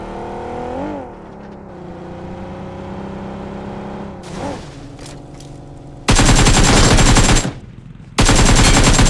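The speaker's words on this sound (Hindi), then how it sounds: "मैं ही अपनी गाड़ी निकाल लेता हूँ और इस बंदे के ऊपर" A player's vehicle in a shooting video game: a steady engine drone with rising revs, then two long, loud bursts of rapid gunfire that cut off sharply near the end.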